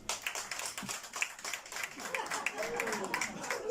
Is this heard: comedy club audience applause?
yes